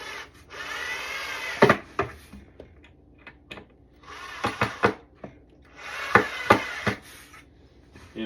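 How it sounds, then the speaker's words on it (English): A power drill whirs in three short bursts, driving screws into wood during IKEA Besta furniture assembly, separated by clicks and knocks of wood, fairly close with quiet pauses in between. "let's drill these in"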